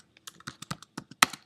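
Quick, crisp keystrokes on a computer keyboard, about a dozen irregular taps in under two seconds, close and clear with one sharper, louder key press near the end.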